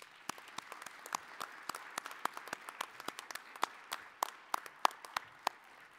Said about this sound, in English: So if you would please, honor Sekou this evening, our Distinguished Alumni Award, at this time with your applause.